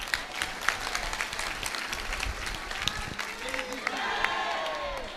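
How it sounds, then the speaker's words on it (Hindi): An audience at a Hindu religious discourse claps together in a fairly soft, scattered burst of applause, with voices talking over and around the clapping. "अब ताली बजाओ।"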